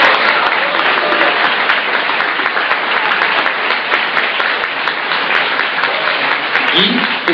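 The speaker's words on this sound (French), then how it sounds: "applaudissons les futurs mariés" Wedding guests applaud the couple in loud, continuous, dense clapping that keeps up evenly for several seconds, with a few voices faintly heard underneath.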